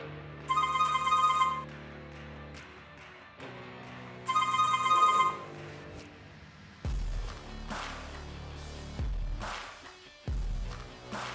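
A Zeblaze Thor SQ smartwatch plays its incoming-call ringtone: two bright electronic melodic bursts about a second long, separated by a pause, followed by a few louder, rougher noises.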